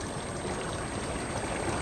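Steady, continuous rush of water pouring from an aquaponics grow bed siphon outlet, an even broadband flow with no breaks, moderately loud and close, with no voices.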